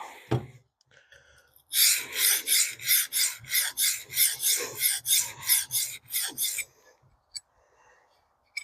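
MagnaCut steel knife blade drawn across a sharpening stone of about 800 grit, a rhythmic series of about fifteen quick, close rasping strokes in steady succession, then a few isolated scrapes, with no talk.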